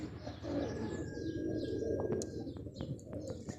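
Pigeons or doves cooing in a low repeated rhythm close by, with scattered chirps and brief wing sounds over a steady background murmur.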